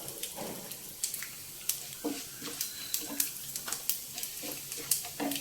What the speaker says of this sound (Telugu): ఆవాలు జీలకర్ర, ఆవాలు వేసానండి